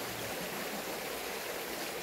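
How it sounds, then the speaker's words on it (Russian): Muddy water runs fast after heavy rains in the mountains, a dense and steady rushing roar with no break and no voices. "Смотрите, вода как льет."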